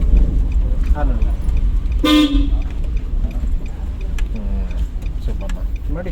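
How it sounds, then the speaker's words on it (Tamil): A single short car horn toot sounds over a running engine during a driving lesson, with faint talk nearby. "ஹார்ன் அடிங்க."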